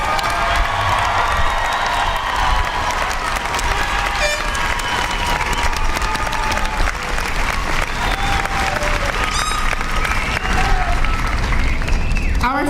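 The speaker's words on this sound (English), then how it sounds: "let's give all of our graduates a very loud and a very proud round of applause" Loud, sustained applause and cheering from a large crowd at a San Diego City College graduation ceremony, with shouts and whoops rising over steady clapping throughout.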